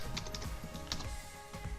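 Typing on a computer keyboard while starting a Telegram bot chat: a quick, quiet run of small clicky keystrokes in an irregular rhythm, close up, with no talk.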